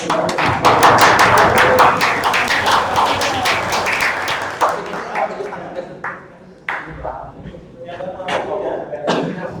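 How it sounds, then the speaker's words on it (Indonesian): A classroom group gets a burst of clapping from the other students, loud at first and then thinning out into scattered claps, with voices talking over it. "beri tepuk tangan untuk kelompok"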